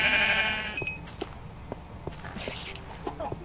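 A Minecraft sheep in a pen gives a short bleat at the start, followed by faint game sounds like soft footsteps and clicks at a modest level.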